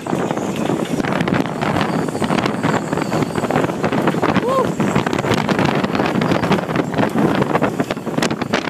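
Strong wind buffets the microphone while high-tide waves rush and churn nearby at the shore of Cadber Bay, a loud, rough, continuous roar.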